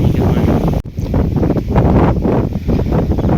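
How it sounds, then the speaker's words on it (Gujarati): Steady, loud wind buffeting the microphone in an open farm field, a continuous roar with a brief dropout partway through. "અત્યારે પવન છે એટલે પવનનો કદાચ અવાજ આવતો હોય તમને"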